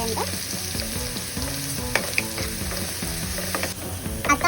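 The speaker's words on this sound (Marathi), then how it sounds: "आलं लसणाची पेस्ट, त्याला चांगल्या पद्धतीने परतून घ्यायचे" Ginger garlic paste with curry leaves frying in oil for a tempering, a close, steady sizzle with scraping stirring sounds and light metallic clinks.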